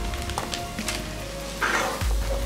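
Apples and butter sizzling in a pan as they are stirred, a close, steady frying hiss with brief scraping and a louder sputter near the end, no voices.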